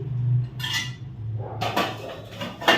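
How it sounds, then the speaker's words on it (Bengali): A dish of khichuri and fried eggplant being covered, with a few clattering metal clinks of plates and a lid knocking against the dish, close and fairly loud. "এটা আমি এখানে এখন চাপা দিয়ে রেখে দিচ্ছি"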